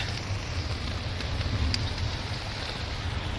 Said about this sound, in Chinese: 看这个雨啊，多大！